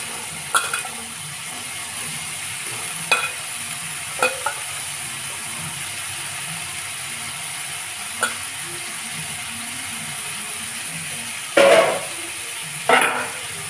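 Sweet corn kernels frying in a pan over a steady low sizzle, broken by a few sharp scrapes and clinks as a utensil stirs them, near and fairly quiet.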